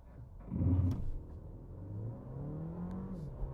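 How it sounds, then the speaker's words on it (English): Alfa Romeo Tonale, a 280-horsepower SUV, pulling away from a standstill: a loud engine surge at first, then a steady rising drone as it gains speed, heard from inside the cabin with no talking. "Even though it has 280 horsepower, accelerating from a standstill doesn't feel quick at all."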